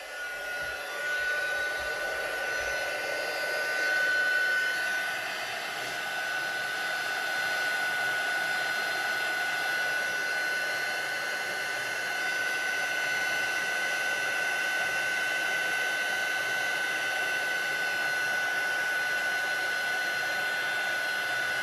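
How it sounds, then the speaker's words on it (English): A heat tool for stamping crafts blows continuously for about twenty seconds, a steady, close whirring hiss like a hair dryer with a faint high whine. "Let's get my heat tool out."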